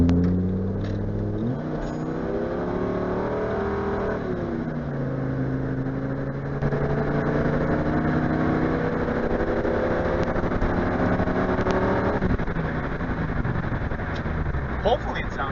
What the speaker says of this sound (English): let's see how the engine sounds through the dash cams